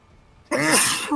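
A single loud, sharp sneeze bursts out after a moment of near silence, close and abrupt.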